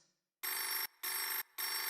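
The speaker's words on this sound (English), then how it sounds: "It had been ringing for me." A telephone rings in three loud, evenly spaced electronic bursts, each lasting about half a second with brief silent gaps between, close and clear with no talking.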